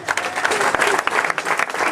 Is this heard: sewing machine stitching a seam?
no